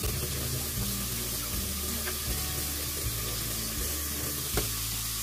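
Cold tap water running over frozen naengmyeon noodles being loosened by hand in a sink, a steady hiss of flowing water with intermittent splashes and handling noises.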